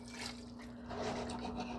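Water pours into a cooking pot holding oxtail, a quiet continuous trickle and splash that swells slightly toward the end, with a steady hum in the background.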